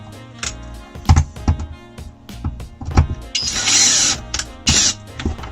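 A camper van roof skylight is screwed down, with sharp close knocks and clicks, then two short bursts of a power screwdriver whirring, loud and nearby.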